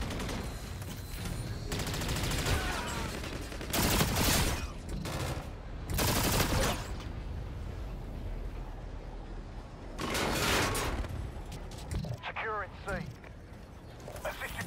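Call of Duty match audio with bursts of SMG and pistol gunfire, several volleys spread through the stretch, some loud and close, others thinner, with a player talking over the fighting.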